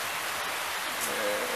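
Rain falls steadily on a Saturday night, a dense, even hiss of drops close by that swells slightly toward the end.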